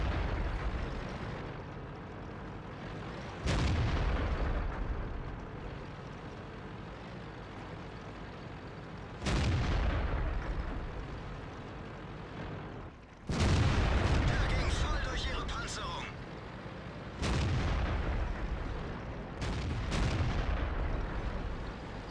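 World of Tanks AT 15A tank destroyer cannon firing: five heavy booming shots spaced several seconds apart, each a loud blast with a long rumbling decay over a steady engine drone.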